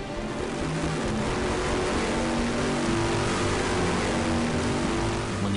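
Bugatti Veyron engine running hard on a factory test stand, a dense, continuous loud roar with a steady low drone and no breaks.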